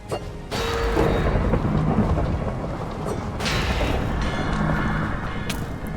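Thunder rumbles and booms through a Minecraft thunderstorm with steady rain, loud and continuous, with a heavier crash partway through.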